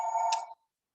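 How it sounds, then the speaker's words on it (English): A brief electronic phone ring, a single clear tone lasting about half a second before stopping abruptly, heard alone with no talk. "And I apologize for my phone ringing."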